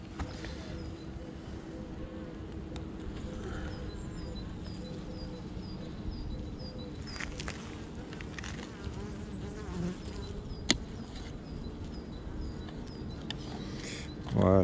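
Honeybees buzz steadily around an open beehive, a continuous drone throughout with occasional handling clicks and a person speaking softly nearby.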